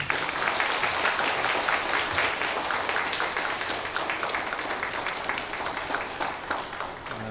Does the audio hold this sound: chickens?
no